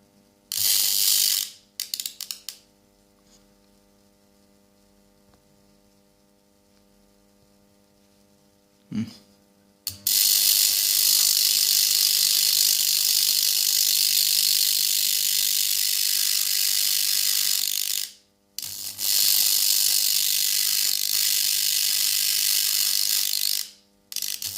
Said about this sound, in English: So as the electrodes heat up, the spark gap grows longer.